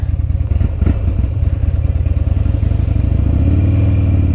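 A 2006 Buell XB12R sport bike with a Harley-derived V-twin engine being ridden, giving a steady, loud, close engine drone with a low throbbing pulse that rises slightly in pitch toward the end.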